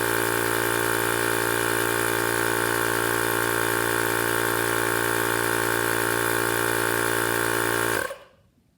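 A Harbor Freight Bauer cordless air compressor runs steadily while inflating a car tire, a loud continuous motor drone for about eight seconds that cuts off abruptly near the end.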